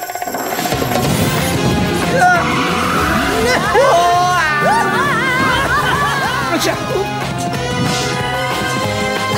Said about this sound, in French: Le Whoop bolide tricycle est le plus rapide de nos véhicules.